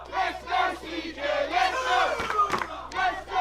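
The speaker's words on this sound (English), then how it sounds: "But the crowd are doing their best to help CJ Carter, to will him on." A wrestling crowd cheers and chants in surges at a live match, loud bursts of voices rising and falling throughout without a break.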